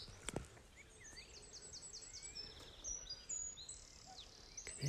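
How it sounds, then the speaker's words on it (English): Many birds sing and chirp across an open field near the coast, a dense layer of overlapping high calls and trills at moderate distance, with a brief sharp knock early on and no talking. "I can hear so many birds as well."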